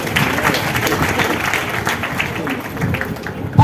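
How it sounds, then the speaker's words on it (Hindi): A hall full of women at a convention claps steadily and loudly, a dense, even wash of applause that lasts throughout and swells slightly right at the end. "जोरदार ताली बजाइए"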